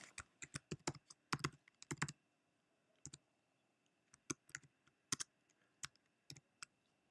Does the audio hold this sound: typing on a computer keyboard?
yes